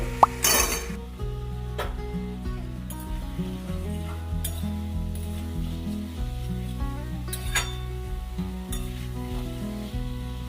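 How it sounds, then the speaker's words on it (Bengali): Spice masala stir-fried together with fish roe fritters in a pan, with a continuous sizzle under occasional clinks and scrapes of a spoon against metal, close and steady, no talking. "আর বড়াগুলোকেও কিন্তু আমি এর মধ্যে দিয়ে নেব, দিয়ে একসাথে কষাবো।"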